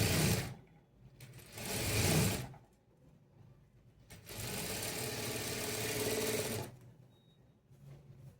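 A sewing machine stitches a blouse hem in two bursts of rapid, whirring mechanical chatter separated by a quiet pause, close and fairly soft, with no talk over the stitching.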